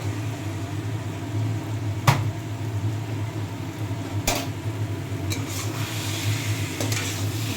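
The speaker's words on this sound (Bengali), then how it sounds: "দিয়ে ভালো করে উপর নিচ করে ভালো করে কষিয়ে নেব।" Boiled young jackfruit stir-fried in cooked spice paste in a pan, a low steady frying rumble and hiss marked by two sharp spatula knocks and a few lighter clicks.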